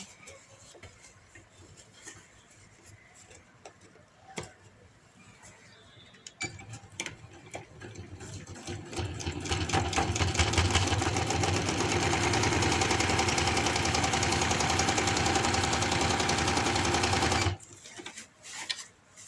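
A sewing machine stitches fabric over elastic for an umbrella palazzo, starting after a few seconds of faint ticking and handling, then running fast and loud for about ten seconds before stopping abruptly.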